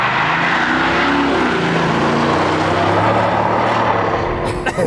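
A 2023 Ford F-250 Super Duty pickup launches hard from inside the cab, its loud engine roar rising steadily with broadband road and wind noise throughout, no speech over it.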